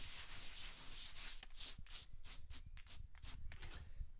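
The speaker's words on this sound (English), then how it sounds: "rub down across the face of the bricks so I get a nice level surface across all my bricks" Steady rhythmic rubbing and scraping across the face of an 800 mm brick oven during its final decorative mortar coat, close and gritty with repeated strokes building toward the end.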